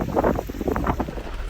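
Strong wind gusts roar during a severe May 2022 rainstorm in Toronto. The noise is close and rushes broadly, buffeting the microphone in uneven surges with no voices.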